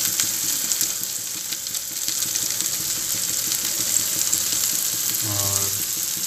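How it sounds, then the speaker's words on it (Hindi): Spice masala fries in a hot pan with a steady, moderate sizzle and crackle, with brief bits of stirring and a short voice near the end. "और इसमें हमने इस मसाले को ऐड कर दिया।"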